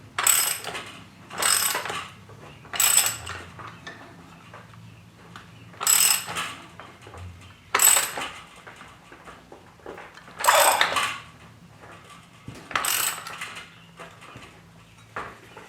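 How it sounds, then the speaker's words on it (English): Bursts of sharp ratchet-like clicking, about eight short spaced runs, as a metal brush cutter blade is tightened down onto a heavy-duty weed trimmer, close up with no talking. "Then you're going to tighten it down pretty good."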